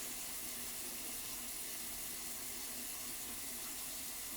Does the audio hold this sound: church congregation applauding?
no